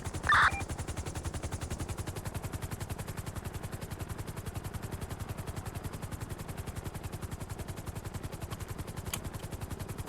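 Helicopter rotors in a video game spinning up for takeoff during rappelling training, a loud, even, rapid blade chop that carries on steadily without a break, with a brief click near the start and no talk.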